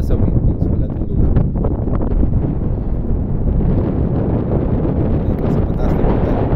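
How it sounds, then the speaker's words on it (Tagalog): Strong wind buffets the microphone in heavy, rumbling gusts that roar continuously with no letup, on high, windy ground in Pililla, Rizal, Philippines. "Napakalakas ng hangin. Kung maririnig nyo po sa video talaga, grabe yung ihip ng hangin."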